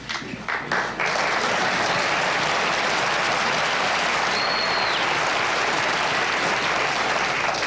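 A television studio audience breaks into loud sustained applause that swells after a brief start and keeps going steadily for several seconds.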